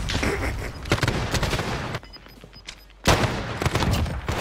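Rapid bursts of video game gunfire crackle through a community gunfight tournament match, dense volleys broken by a brief lull near the middle before another loud burst resumes.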